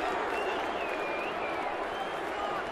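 A big baseball crowd at a Toronto Blue Jays home game against the Boston Red Sox in 2012 roars and jeers pitcher Sergio Santos in the ninth inning, a continuous distant wash of crowd noise with faint whistles on top.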